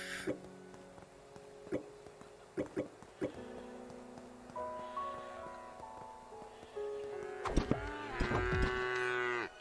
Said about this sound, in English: You're a cow.